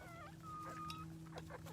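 Backyard chickens on their first day out of the hen house cluck and murmur close by in a steady series of short calls, with a constant low hum underneath.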